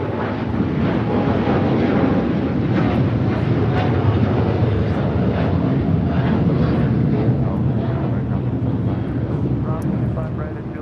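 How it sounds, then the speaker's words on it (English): United Airlines Boeing 787-10 Dreamliner, Flight 32 to Tokyo Narita, roars down the runway at LAX on takeoff, a loud sustained jet-engine rumble and hiss that holds steady, then eases slightly at the end. "This is United Airlines Flight 32 taking off to Tokyo Narita on a 787-10 Dreamliner."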